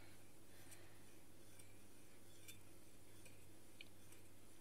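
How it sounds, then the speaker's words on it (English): A spoon stirring honey into homemade blueberry syrup makes faint, scattered clinks and soft scraping against the container, quiet and close, with no speech. "So we just keep stirring until honey has blended in"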